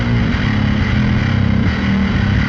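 Heavily distorted electric guitar through the Aurora DSP Gorilla amp plugin at a 100% processed mix plays dense, saturated chords and chugs continuously at a loud, steady level, no one speaking.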